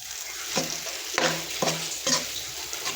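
Gram flour being stirred and roasted in hot oil for halwa, with soft sizzling under several distinct scraping stir strokes, close and moderately quiet.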